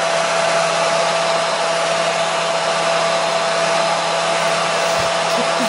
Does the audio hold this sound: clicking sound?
no